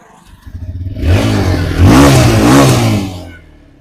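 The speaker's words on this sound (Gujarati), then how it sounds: "એન્જિનનો અવાજ મિત્રો હાવ સાયલેન્ટ છે" A TVS Raider or Honda SP 125 motorcycle engine runs close by, its steady rumble climbing in pitch as the throttle is briefly revved, then easing back.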